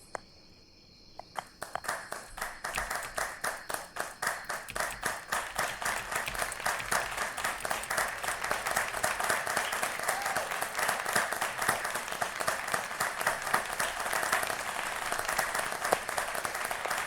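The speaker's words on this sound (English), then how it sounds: "I absolutely adore the clapping." Audience clapping at a short film viewing party starts with a few scattered claps, then swells into dense, steady applause that continues at full strength to the end.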